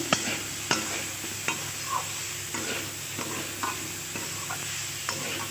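Broccoli stir-fried in a pan with spices, salt and turmeric, a spatula scraping and knocking in regular strokes over a soft continuous sizzle, close and clear with no voices.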